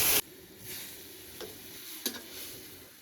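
Water hits a hot pan of fried sweet banana with a loud hiss that cuts off quickly, followed by a quiet, steady sizzle with a few faint taps, and no voices.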